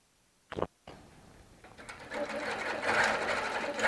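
Baby Lock sewing machine quilting with a couching foot, a brief burst and pause before the motor starts up and builds into a fast, steady mechanical chatter that grows louder toward the end.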